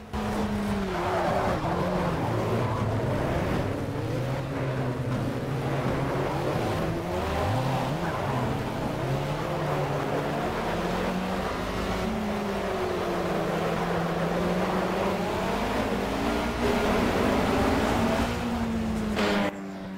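A race car in the Project Cars racing game drives continuously, its engine droning and shifting pitch with revs, accompanied by tire squeal, loud and steady throughout with no talking.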